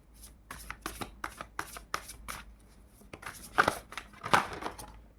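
Oracle cards are shuffled by hand close up, a quick series of soft riffling flicks and slaps in an irregular rhythm, with no talking.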